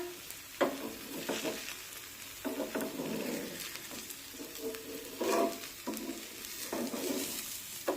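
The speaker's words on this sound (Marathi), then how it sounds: "मध्यम आचेवर हे धिरडे छानपैकी भाजून घेऊया" A wheat flour dhirde crepe cooking on a pan over a medium flame gives a steady gentle sizzle, rising in soft bursts every second or two, close and moderately loud, with no talking.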